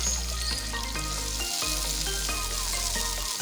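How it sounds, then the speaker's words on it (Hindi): Tomato paste fries and sizzles in a pot for achar gosht, a continuous loud crackling hiss broken by occasional stirring scrapes, with no talking. "2 से 3 मिनट हम इसकी भुनाई करेंगे।"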